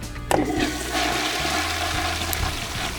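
A household toilet flushes in a hotel bathroom after a repair, opening with a sharp click and rush of water that settles into a steady, close refill gurgle and hiss with no talk.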